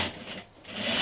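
Sewing machine stitching French seams, a steady close whirring run that dips briefly midway before picking back up to full speed.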